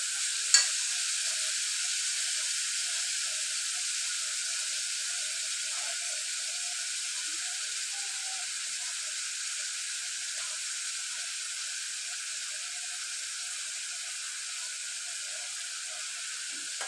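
Onions frying in a pan over low heat with salt for a mutton curry, giving a steady, moderately loud sizzle and hiss that runs unbroken throughout, with one sharp tap near the start and no talking.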